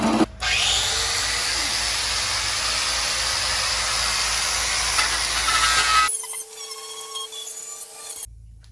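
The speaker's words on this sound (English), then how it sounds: "we're gonna use the step bit and make the holes a little bit larger so they'd be the right size" A power drill spins a step bit through the steel rocker panel of a 1969 Camaro, a loud, steady whining grind that runs for about six seconds before stopping, followed by quieter clicks and a brief restart.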